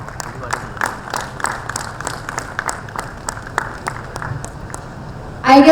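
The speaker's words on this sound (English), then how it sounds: "Can we have a big round of applause again, please?" Audience applause at a corporate volunteering conference: a modest, steady spatter of clapping from a crowd, fairly even in level, with a voice beginning to speak at the very end.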